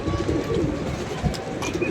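Pigeons coo repeatedly in a loose, overlapping rhythm, close by and fairly loud, with faint background noise and no clear talk.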